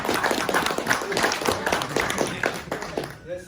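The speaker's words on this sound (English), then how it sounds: "Such spontaneity does require applause." A room full of people claps in a dense burst of applause that carries on steadily for a few seconds, at a re-enacted Geological Society meeting.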